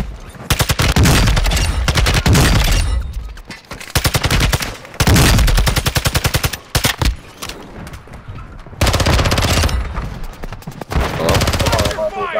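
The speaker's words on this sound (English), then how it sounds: "Taking effective fire!" Heavy automatic gunfire in Call of Duty: Modern Warfare II, loud rapid bursts of several seconds each with short gaps between, under scattered game voices.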